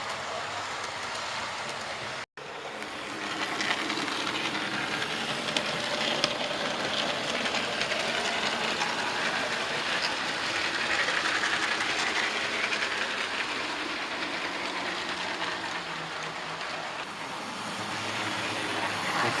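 A model railway locomotive in a loft layout pulls a milk train at low throttle, giving a continuous close mechanical whir and hiss. A brief dropout comes early, then the running sound stays steady and even, with no talk.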